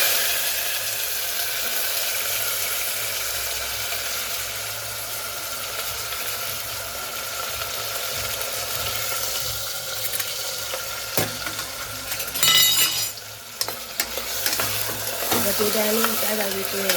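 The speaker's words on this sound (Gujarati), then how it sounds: "ચાલો, તેલ આવી ગયું છે. એમાં નાખીશું બટેટા." Potatoes frying in hot oil for Kathiyawadi undhiyu, a steady close sizzle and bubbling throughout, with brief clatter and stirring sounds near the end.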